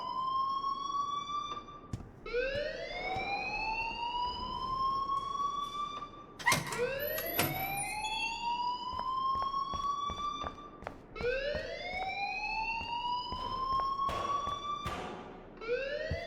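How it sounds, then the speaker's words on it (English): An alarm in Life Is Strange wails in repeated rising sweeps, each climbing tone looping like a siren, steady and prominent throughout with a few brief sharp interruptions and no speech. "please turn off that alarm since that's your job"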